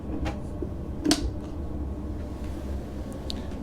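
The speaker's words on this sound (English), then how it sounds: "It's under the bed, there's drawers down there." A storage drawer set under the cabin bed of a Pearl 82 yacht slides and shuts with one clear knock, over a low steady background hum in a quiet cabin.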